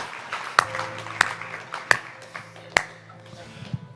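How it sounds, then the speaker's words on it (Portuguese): A speaker in a Portuguese church sermon claps his own hands, four sharp, evenly spaced claps about 0.7 seconds apart, close and crisp over a faint background hum. "eu mesmo vou aplaudir"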